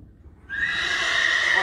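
A noble, alert horse lets out a single loud, sustained whinny that starts abruptly after a brief quiet moment and carries on strongly to the end.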